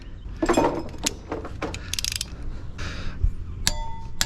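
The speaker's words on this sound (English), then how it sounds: "We need to set our torque wrench to 130 foot-pounds." A torque wrench set to 130 foot-pounds clicks and ratchets while bolts are tightened during a Honda K20/K24 engine swap into an RSX. Scattered mechanical clicks and a few metallic clangs sound nearby.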